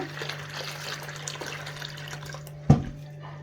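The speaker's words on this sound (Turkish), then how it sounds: "Evet biraz daha ekliyoruz suyumuzu." Water poured into a bowl of yeast, salt and flour for Turkish gözleme dough, a soft steady trickle with a sharper splash near the end.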